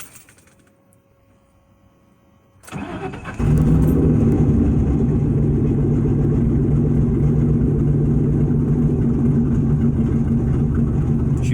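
An American car engine running on seven of its cylinders starts from near silence with a cranking burst, then settles into a loud, steady, rough idle that carries on to the end, with no talking.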